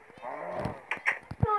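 A game cow gives a short, low moo against soft background sound, with a voice cutting in briefly.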